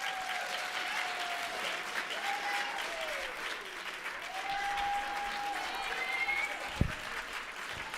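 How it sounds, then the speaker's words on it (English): A conference audience applauds steadily, a dense wash of clapping from a large crowd at moderate distance, with a faint tonal whine drifting over it and a single sharp knock near the end. "give her a round of applause"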